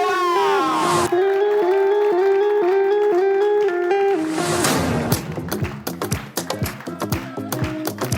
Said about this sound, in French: on va continuer à applaudir pour accueillir le papa